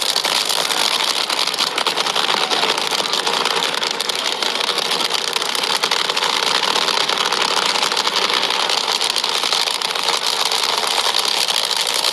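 A dragster engine runs with a loud, unbroken roar that stays steady and close for about twelve seconds, with no voices.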